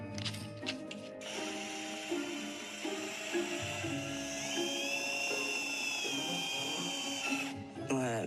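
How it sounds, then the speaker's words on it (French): A metal drill bit boring a hole in a bronze piece, a high whining drill tone that holds and shifts in pitch, with brief starts and stops near the beginning and end, fairly faint and close. "Je vais commencer par faire le trou dans cette pièce en bronze et j'utilise une mèche en métal."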